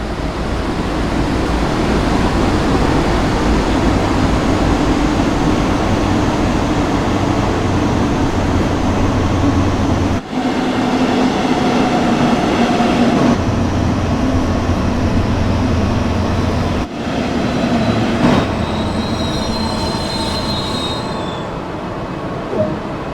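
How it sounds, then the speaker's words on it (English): Loud, steady rumble of a BR 143 electric locomotive train in Train Sim World 2, emergency brake applied, with metallic wheel squeal and screeching brakes, continuous throughout with a couple of abrupt shifts. "set the train brake to emergency and then wait for the train to come up"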